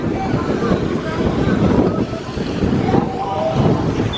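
Strong wind buffets the microphone on a cruise ship deck during stormy seas, a constant roar with a low rumble of moving water beneath and faint voices in the background.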